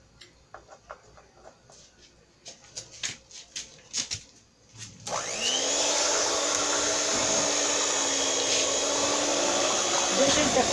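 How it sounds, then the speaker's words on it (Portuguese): Electric mixer beating pudding in a home kitchen: after a few clicks and knocks it starts up into a steady loud whirring hum that runs continuously to the end. "Essa daqui é a batedeira, ó."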